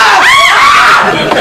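Women scream together in a loud, high, wavering burst that peaks and trails off quickly, sounding close and shrill.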